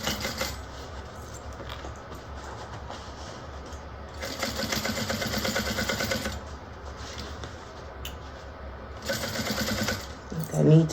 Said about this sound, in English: I need to change that bobbin soon. I hear it rattling.